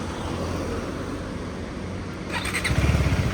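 KTM Duke 390 (2025) motorcycle engine running with a steady broadband rumble, then a louder surge with sharper popping bursts near the end as it revs or launches, no talking.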